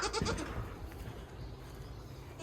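Young goat kids kept at a home dairy goat farm in Kyzylorda give a brief bleat at the start, faint and somewhat distant, followed by quiet farmyard noise.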